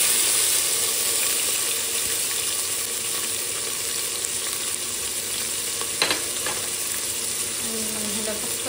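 Tomato, chili and garlic fry in hot oil for a vegetable amti, giving a steady close sizzle with a few light stirring scrapes near the end.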